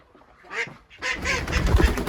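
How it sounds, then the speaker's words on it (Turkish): Ducks quack near a village chicken coop at a campsite, a few faint calls at first, then a louder, denser burst of overlapping quacks and fowl noise over rustling. "Ördekler de çıkıyorlar."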